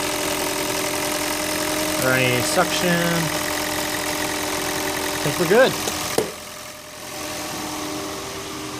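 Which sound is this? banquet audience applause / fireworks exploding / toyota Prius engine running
toyota Prius engine running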